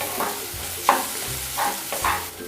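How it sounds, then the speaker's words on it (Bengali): Spoon stirring turmeric and chili powder through a frying pan while making spicy masala bread, a few soft scraping strokes over a faint sizzle, close and quiet with no talking. "হলুদ গুঁড়ো, লঙ্কার গুঁড়ো 1/2 চামচ করে দিলাম। বেশ ভালো করে মিশিয়ে নেব।"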